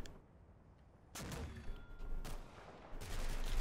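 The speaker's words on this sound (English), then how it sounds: "Oh, shots." Gunfire in the WWII strategy game Combat Mission: Battle for Normandy: a quiet stretch, then a burst of shots at about one second and more volleys toward the end, rattling at moderate distance.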